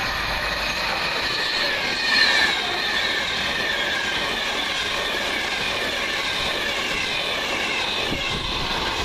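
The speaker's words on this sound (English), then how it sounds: "Virgin train from Glasgow Central to London Euston via Birmingham New Street." A Virgin passenger train on the Glasgow Central to London Euston service passes at Coseley, a loud continuous rumble with wheel squeal and rail noise held steady throughout.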